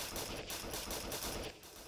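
Rapid, relentless gunfire from dual-wielded guns in the crab combat game Fight Crab, a dense, continuous crackling stream of shots, fairly faint and distant.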